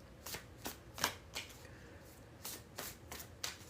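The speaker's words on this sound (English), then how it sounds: "3 more shuffles" An oracle card deck being shuffled by hand nearby, about ten crisp, quick riffles and slaps spaced unevenly over a quiet background.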